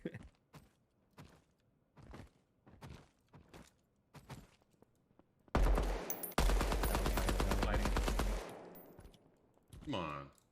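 SMG gunfire in Deadrop, starting as scattered single shots and short bursts, then breaking into two long, loud sustained bursts of rapid automatic fire, with a brief clatter at the end.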